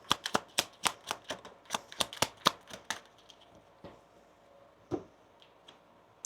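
Tarot cards being shuffled and drawn, heard as a quick run of sharp, close card snaps and taps that thins into a few scattered clicks, with no talking.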